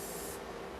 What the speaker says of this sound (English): Be really, really liberal with the pan spray